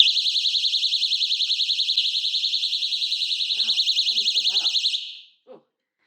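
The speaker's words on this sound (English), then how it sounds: "So I've got this little alarm that hangs in my hammock, and if anybody or thing, if anything comes into my hammock, I will be sounding the alarm." A small personal hammock alarm shrieks a loud, rapidly warbling high-pitched tone for about five seconds before cutting off, followed by faint clicks as it is handled.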